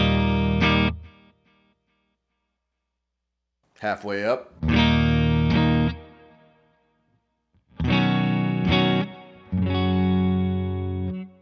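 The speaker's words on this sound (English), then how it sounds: "Duchess has a beautiful reverb too." An electric guitar played through a Victory V4 Duchess amp with reverb rings out in sustained chords and notes separated by pauses, with a brief spoken voice in one gap.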